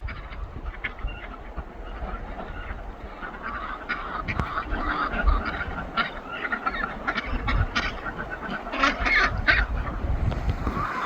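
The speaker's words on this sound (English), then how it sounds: "Sounds like Bert's kid's getting his voice" A young farm duck honks repeatedly, its voice cracking as it matures, among a flock outdoors; loud, close, irregular honks and squawks of varying pitch continue throughout with no speech.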